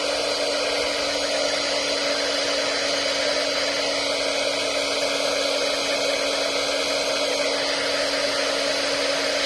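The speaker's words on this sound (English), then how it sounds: "Let me get my heat tool out. I'm sorry, it's going to be noisy." A heat tool blows steadily and loudly over an embossed card, a constant droning whoosh with an even tone that holds unbroken throughout.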